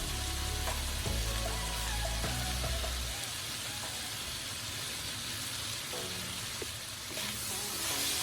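Chicken breast and green beans stir-frying in a pan with sesame oil and sugar, giving a steady, close sizzle with scraping stir strokes and no voices.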